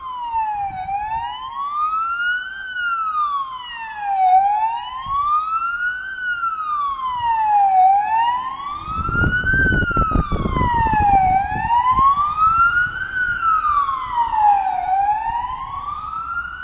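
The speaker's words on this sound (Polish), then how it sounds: "O, tu jedzie karetka." A wailing emergency siren sweeps up and down repeatedly, growing louder as the vehicle passes close by with road rumble, then fading slightly.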